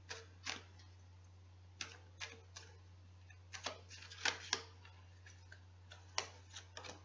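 Oracle cards are shuffled by hand, producing soft irregular clicks and riffling snaps spread across several seconds over a low steady hum, quiet and close with no talking.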